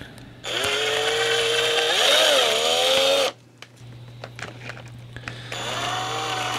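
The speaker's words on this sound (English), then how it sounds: "So the first thing, I'm gonna use my drill." An electric drill whines loudly up close while making a hole in the back of a battery compartment, running steadily for about three seconds with a brief dip in pitch, then stopping before a shorter second burst near the end.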